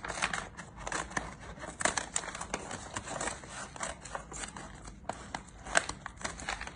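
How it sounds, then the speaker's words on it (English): Scissors snip across a paper bag in a quick run of crisp, close cuts with crinkling paper, some strokes louder than others, and no talk. "And you just cut across it."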